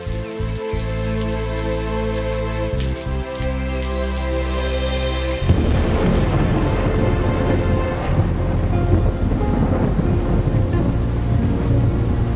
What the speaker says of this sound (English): let's go wait in the classroom and hope the rain stops.